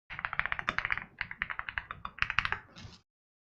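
Rapid bursts of keystrokes clatter on a computer keyboard, close and clear, in quick uneven runs with brief pauses, stopping abruptly near the end.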